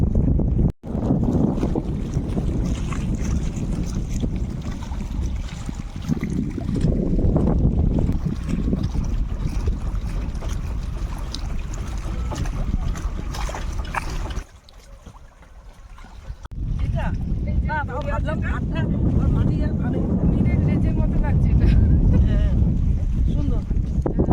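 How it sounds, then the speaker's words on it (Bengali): A boat on a river estuary motoring in toward the jetty, a continuous engine and water churn with gusty wind buffeting the microphone, briefly dropping away mid-clip before resuming. "আমি এখন অপেক্ষা করছি বোটটা আসছে আমি দেখতে পাচ্ছি"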